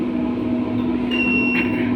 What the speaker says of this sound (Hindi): देखिए, तो अलार्म अभी आपका शो करने लगा यहाँ पे।